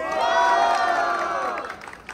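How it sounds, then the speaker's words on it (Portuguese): A crowd at a Brazilian street rap battle semifinal cheers and shouts loudly, whoops and voices blending into a dense roar that holds steady before tapering off near the end. "Barulho quem gostou das rimas de do baile!"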